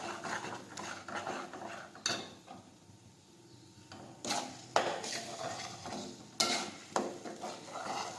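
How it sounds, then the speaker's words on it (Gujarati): A spoon scrapes and clinks against a pan while a tomato and green urad bean gravy is sautéed and stirred again, with sharp metallic knocks spread unevenly through the quiet clip, faint overall. "હવે ફરી પાછું સાતળી દઈશું."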